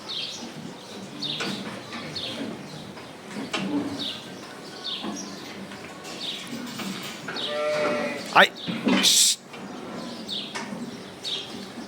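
Goats bleat repeatedly in a hot barn during weighing for the Kurban livestock sale, over a busy, reverberant background, with overlapping animal calls near and far and one louder cry near the end.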